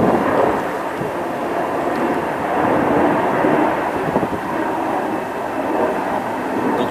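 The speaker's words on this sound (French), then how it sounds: "Je vais laisser passer l'avion." An airplane passes overhead as a steady broadband roar lasting several seconds, fairly loud and continuous with slight swells in intensity, heard alone without talk.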